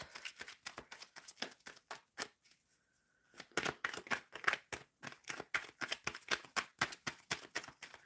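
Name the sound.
tarot cards being shuffled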